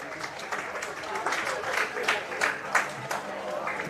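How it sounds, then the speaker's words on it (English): A crowd claps and applauds steadily at a CP football match between Australia's Pararoos and India at the IFCPF Asia-Oceania Championships, with a commentator talking over the clapping. "The crowd applaud it."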